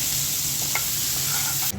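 Green chilies hit a hot frying pan with onions being fried crisp, giving a loud, steady, close sizzle that hisses on without a break and cuts off abruptly near the end.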